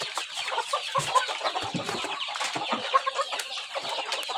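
Chickens cluck steadily at close range while being fed grain in the evening after work, their calls overlapping in a busy, continuous flock chatter with occasional louder squawks.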